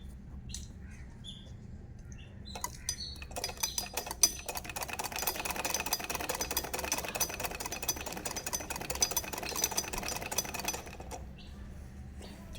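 A sewing machine stitches fabric in a continuous fast mechanical whir with rapid ticking, starting after a few quiet seconds and running steadily at moderate level before stopping near the end; no talking.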